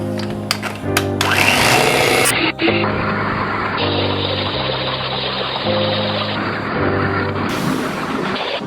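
An electric mixer whirs steadily as it blends vanilla extract into a dessert mixture, its motor drone briefly stopping and restarting in a loud, continuous buzz.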